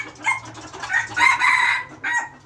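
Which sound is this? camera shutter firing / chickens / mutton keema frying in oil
chickens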